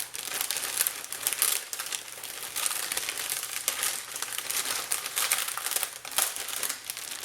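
Paper crinkles and rustles steadily as a scrapbooking mail envelope is opened by hand. Dense crinkling runs close and fairly loud for the whole stretch, with small crisp snaps and no talking.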